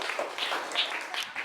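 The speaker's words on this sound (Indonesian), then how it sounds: "Tepuk tangan ya." Applause from students in a classroom after a group presentation, a brief patter of scattered hand claps at moderate loudness.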